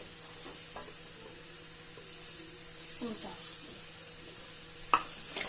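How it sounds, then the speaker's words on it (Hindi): Roasted ginger and sugar stirred in a pan with a soft sizzle and a hiss of steam, the spoon scraping at intervals and one sharp knock near the end. "इसको कंटिन्यू चलाते रहेंगे इसी तरह से"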